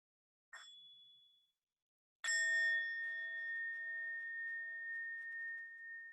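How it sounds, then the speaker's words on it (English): A single meditation bell is struck once at a mindfulness session, giving a bright ring with a long, steady sustain that slowly fades over several seconds. A fainter, shorter ding comes just before it. "And we'll begin with one sound of the bell."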